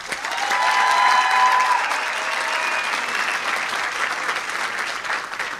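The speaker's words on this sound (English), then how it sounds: "And a round of applause for Corozal Junior College." Clapping from the crowd at a debate competition final in Belize for the Corozal Junior College team, loud at first and easing into a steady patter, with a few voices calling out early on.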